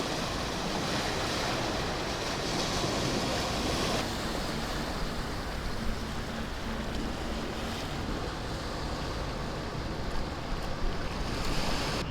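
Strong, typhoon-like wind and rough stormy sea waves beside a seaside RV park in Japan, a dense continuous roar of surf and gusting wind buffeting the microphone, loud and unbroken with no voices.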